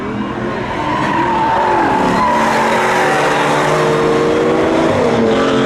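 An Audi A4 and a Chevy Camaro launch side by side at a spectator drag race, engines roaring loud and close with rising revs and a brief tire squeal as they pull away.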